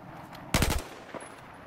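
Short burst of automatic gunfire in the video game Battlefield 4, a rapid string of loud close shots lasting a fraction of a second, followed by a faint single report.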